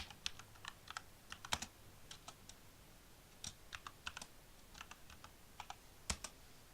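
Keys clattering on a computer keyboard as a file name is typed, in irregular quick bursts of sharp clicks with short pauses, close and fairly quiet, with no voices.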